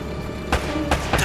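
Gunfire in Uncharted: Drake's Fortune, three loud, close shots spaced irregularly over a low background of game ambience.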